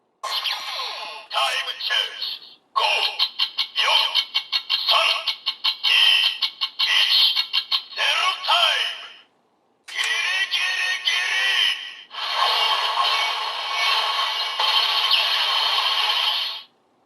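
A Kamen Rider Zi-O DX Zikan Girade toy weapon plays a loud electronic sequence after its top button is pressed: choppy bursts of music and voice-like sound effects through a small speaker, a short pause, then a sustained blaring phrase.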